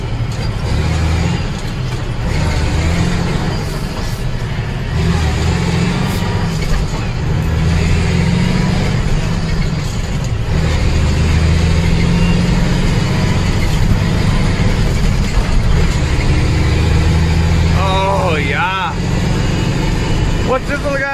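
A big rig truck's engine rumbles loud and steady while driving, a deep continuous drone with gear changes and occasional hisses and clunks, and someone talks over it at times.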